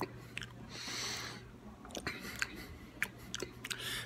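Close, crunchy chewing of a chocolate-covered wafer snack, with intermittent sharp crackles and soft breathing between bites, fairly quiet.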